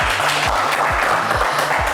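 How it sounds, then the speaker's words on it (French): Studio audience applauding a game show contestant, a dense steady clapping wash with low musical tones running underneath throughout. "on vous applaudit bien fort"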